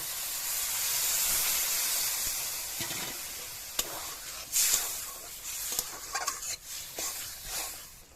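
A small splash of water poured into a pan of sizzling green tomatoes for a chachchari, with a steady hiss and steam rising, followed by scattered clinks and stirring scrapes.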